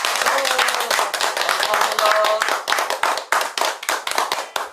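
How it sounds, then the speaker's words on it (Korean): Audience applause at a Korean literary tour gathering, a dense burst of hand clapping filling the space, steady and loud throughout, with a few voices calling out faintly over it. "다 같이 박수!"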